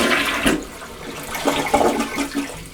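Elongated 10-inch rough-in Project Source toilet flushing with the lid open: a loud rushing gush of water swirling and draining close by, with no talking.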